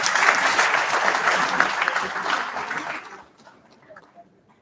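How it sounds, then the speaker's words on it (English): A crowd at a Lagos State Pension Commission retirement event claps loudly and steadily for a few seconds, then the applause fades to a few scattered claps. "Please give him a big round of applause."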